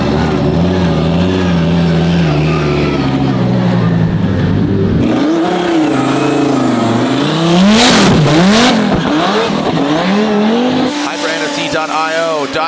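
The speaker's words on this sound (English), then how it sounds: "Dodge Viper" A Dodge Viper drift car on a competition track, its engine revving loud and close through rising and falling pitches with squealing tires and a brief voice over the roar.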